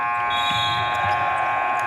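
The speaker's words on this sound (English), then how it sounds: "Acero, who scores right before the buzzer" A basketball game clock buzzer sounds at the end of the first half of an under-17 Costa Rica versus Mexico game, a steady electronic tone holding for about two seconds over arena noise.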